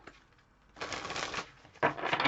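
Tarot cards being shuffled by hand close by: a quiet start, then a dense riffling flutter, a short pause, and a second burst of papery shuffling.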